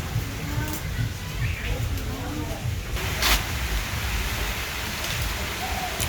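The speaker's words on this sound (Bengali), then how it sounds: "আবার এই যে আকাশ অন্ধকার করে ফেলাইছে অন্ধকার করে ফেলাইছে বলতে যে বৃষ্টি পড়াও শুরু হয়ে গেছে" Rain begins falling over a village in Bangladesh, a steady soft patter and hiss on nearby surfaces with a few brief louder spatters, under ambient outdoor noise.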